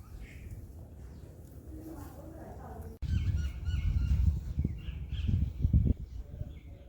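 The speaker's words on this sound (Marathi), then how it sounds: "शांत वातावरण पक्ष्यांची किलबिल" Bird calls ring out over a steady low rumble at an ancient hilltop Yamai Devi temple in Aundh, growing busier and louder in the second half with a few honking notes mixed in.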